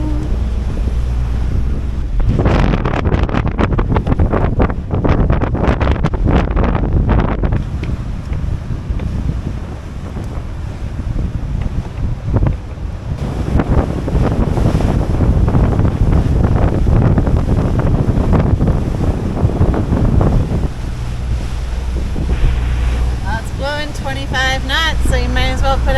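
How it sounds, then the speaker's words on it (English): Strong wind buffets the microphone aboard a Leopard 40 catamaran near the Verrazano Bridge off New York, with loud continuous roaring gusts and waves washing against the hull, and faint talk now and then. "really get rid of this wind"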